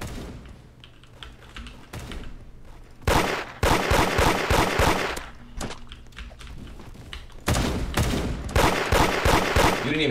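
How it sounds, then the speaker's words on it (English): Video game gunfire in rapid automatic bursts, loud and near, separated by short pauses, with rattling mechanical clicks between volleys and no voices heard. "Why are you shooting at me?"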